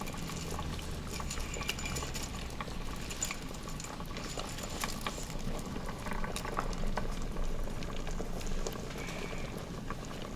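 A small handful of noodles dunked into a pot of boiling beef short rib soup (galbitang) in an Instant Pot, with a steady quiet bubbling and light liquid splashes and clinks throughout.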